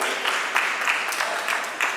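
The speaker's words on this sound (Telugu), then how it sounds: "క్లాప్ చేయండి" A group of students claps together in a short, moderately loud burst of applause, steady across the moment with slight rises in intensity.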